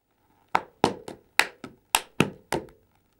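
Hand claps and boot slaps from a Széki Transylvanian folk dance, eight crisp, separate smacks in an uneven rhythm, close and alone against silence.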